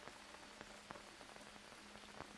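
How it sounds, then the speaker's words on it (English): Rain falls in the jungle survival game Green Hell, a steady patter on surfaces with scattered sharper drops striking close by, with no talking. "Oh, it's raining again."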